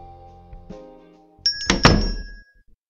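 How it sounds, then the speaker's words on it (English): A cafe door bell chimes as the door is opened, a bright metallic ring following a thunk, then ringing out and fading over about a second. "The bell chimes again,"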